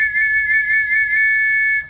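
A sustained two-tone signal whistle from the Arma 3 military shooter holds steady and loud for nearly two seconds before cutting off, with faint game background underneath.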